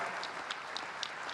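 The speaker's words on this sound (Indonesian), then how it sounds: "Mari kita tepuk tangan untuk Christina dan semua anak Indonesia," Audience applause fills a parliamentary assembly hall during a state address, a steady dense wash of many hands clapping, moderately distant and continuous with no voice over it.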